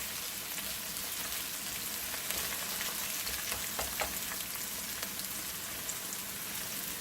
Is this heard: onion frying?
yes